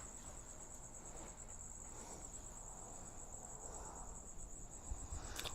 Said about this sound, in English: She loves the sound of the crickets.